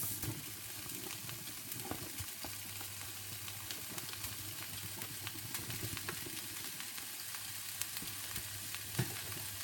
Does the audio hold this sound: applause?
no